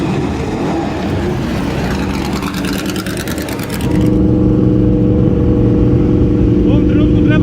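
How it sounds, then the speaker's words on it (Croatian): V8 endurance racing cars from the Porsche 917, Ferrari 512, Lola T70 and Ford GT40 era start and rev at a historic racing festival at Montjuic, a loud continuous engine roar whose pitch steps up midway, with a voice talking over it. "Od silne količine V8 motora koji se pale i turiraju, bolje da šutim."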